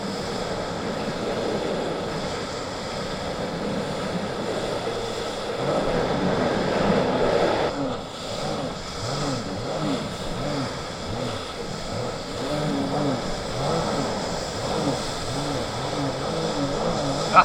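2026 Sea-Doo personal watercraft engine running on a lake: a steady, fairly quiet motor drone with rhythmic whooshing pulses as the hull slaps the water, heard continuously under wind noise.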